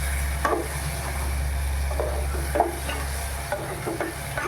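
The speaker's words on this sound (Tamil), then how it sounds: "இதில் பச்சை வாடை போகிற வரைக்கும் கிண்டி விடணும்." A spoon stirs and scrapes a thick ground paste frying in a pan for upma, with close, irregular scraping strokes over a steady low sizzle and hum.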